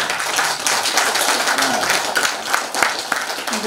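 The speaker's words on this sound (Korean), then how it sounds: "이분한테 큰 박수 한번 드려야 됩니다." An audience at an academic conference on Choe Chiwon clapping steadily, a dense continuous patter of many hands held at an even level throughout, with no voices on top.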